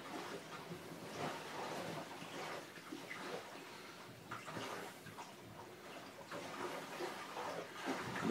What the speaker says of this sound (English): what you're hearing is the sound of water glugging past